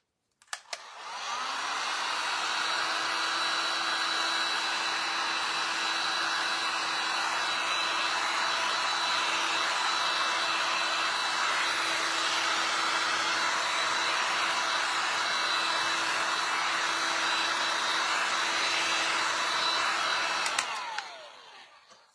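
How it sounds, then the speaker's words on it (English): A hair dryer drying paint blows steadily at close range for about twenty seconds, a constant whooshing whine that starts and stops abruptly. "let's get the dryer out and dry those two"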